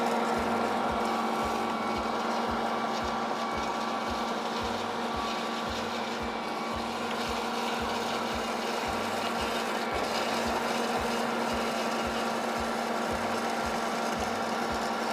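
An Ankarsrum stand mixer running with its dough knife and roller through buttery cookie dough, giving a steady motor hum with regular low thumping pulses as the bowl turns, close and constant.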